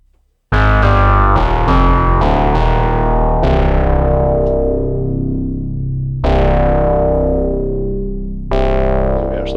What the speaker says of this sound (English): it's a stereo diffusion network, so it's taking this mono sound and really bouncing it around and modulating it in nice subtle ways